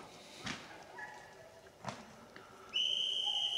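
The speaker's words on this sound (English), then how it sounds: "And there's the whistle." At a woodland pheasant shoot, a whistle gives one loud, sustained, steady blast near the end. It follows a quiet stretch of faint outdoor sounds and a few distant thuds.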